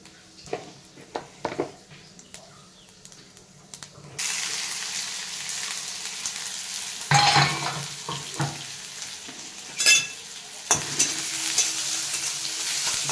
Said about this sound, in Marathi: मस्त जिरी मोहरी टाकून घ्यायची.